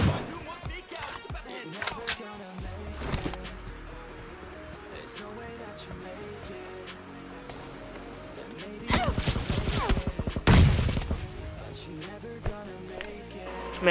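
M4 rifle gunfire in a battle royale video game, heard as scattered sharp shots and bursts among game sounds, with a denser volley of shots near the end and someone talking over it.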